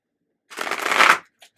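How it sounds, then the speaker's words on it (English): Crinkly rustling of wallpaper somewhere in the background, a single continuous papery burst lasting under a second, fairly close and alone with no talk. "I hear you rustling wallpaper or something in the background that's not sticking so well."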